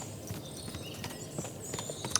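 Several horses' hooves clip-clop in a medieval open-world setting in Kingdom Come: Deliverance II, faint and somewhat distant, an irregular patter of steps over low ambient noise.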